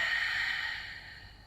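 A long, soft exhaled breath during a gentle neck and shoulder Pilates stretch, close and airy, fading out over about a second and a half.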